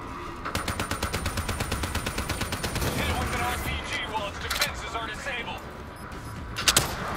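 Gunfire in the first-person shooter Call of Duty Black Ops 3, a rapid automatic burst of evenly spaced shots followed by scattered louder blasts and game noise.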